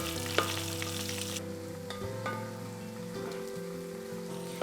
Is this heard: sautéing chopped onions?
yes